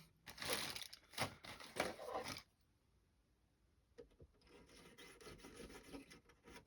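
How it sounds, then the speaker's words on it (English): Harsh rasping bursts of a hand drill boring a hole in a small plastic model ship part, several strokes close up, then a quiet pause before softer scraping resumes. "I need to drill that hole out."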